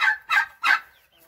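Dwarf bantam chickens on Koh Samui, a tropical island, give three short, close, loud clucking calls in quick succession, then fall quiet.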